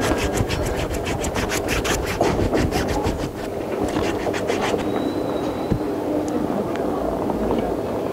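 A client's foot being scrubbed during a pedicure: continuous close, coarse rubbing and scratching with fast back-and-forth strokes, loud and steady throughout, then looser scraping toward the end.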